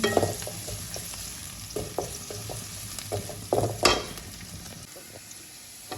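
Ingredients for dal bhuna with Bombay chili fry in a pan, a continuous close sizzle broken by repeated scraping stirs of a spoon, with a couple of louder strokes midway.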